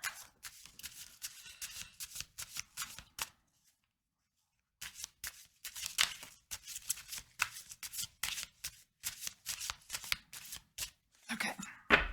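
A deck of oracle cards being shuffled by hand, quick crisp riffling bursts repeating close up, with a short silent pause midway and a soft voice faintly underneath.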